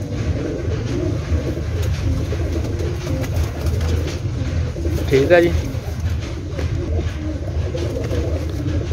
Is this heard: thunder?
no